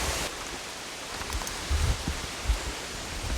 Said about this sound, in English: Pissing down rain